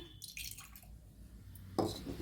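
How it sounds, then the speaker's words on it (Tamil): Spiced buttermilk is poured into a vessel in a few quiet splashes and trickles, ending with a brief louder gush. "இன்னும் கொஞ்சம் நம்ம வந்து மோர் இதில் விட்டுக்க போகிறோம்."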